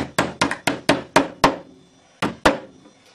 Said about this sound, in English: take a hammer and just seat the ends